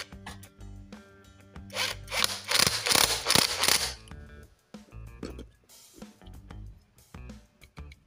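A hand tool tightens an M8 or 10 mm bolt while assembling a Honda Supra X 125 motorcycle engine, with close ratcheting and metallic scraping, a louder busy burst early on, then scattered clicks and taps.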